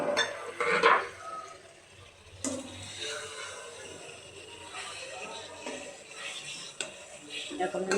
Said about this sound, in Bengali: এখন আমি ভালো করে একটু নাড়াচাড়া করব, সব মিক্সড করে দেব।